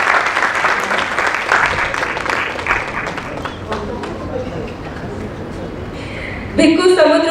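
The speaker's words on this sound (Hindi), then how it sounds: "एक बार जोरदार तालियां उनके लिए।" Audience applause for the cast after a Hindi stage play about Emperor Ashoka at a theatre festival: loud, dense clapping from a full house that thins slightly midway, then swells again sharply near the end.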